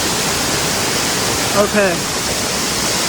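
A wide waterfall in the hills of Nepal roars close by with a steady, dense rush of water. A brief voice speaks over it midway.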